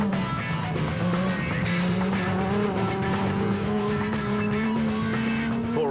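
A Rubicon Toyota rally car at the Magalies 400 rally races past with a loud, continuous engine roar, revs rising steadily through a gear as it passes close by.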